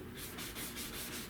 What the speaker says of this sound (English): And I'm gonna sand there